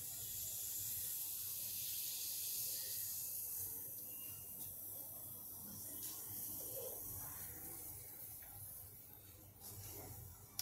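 Steady hissing and sizzling as water spatters on a roti on a hot griddle, continuing throughout with soft crackles and no talking.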